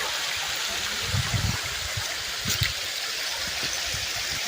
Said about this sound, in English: the last splash